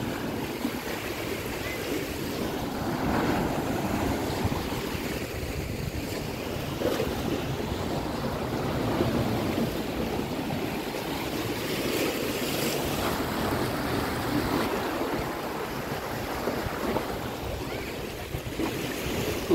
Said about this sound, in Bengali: এই যে দেখুন সাগরের ঢেউ, কি পরিমাণে ঢেউ হচ্ছে।